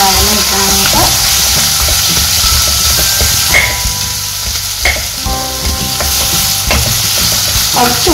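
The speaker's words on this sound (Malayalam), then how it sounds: "ഈ സവാള നന്നായിട്ട് ഇനി വഴങ്ങി വെക്കാം." Sliced onion sautés in a pan for a Kerala-style green peas curry, with loud continuous sizzling and scraping stir strokes. A voice is faintly present now and then.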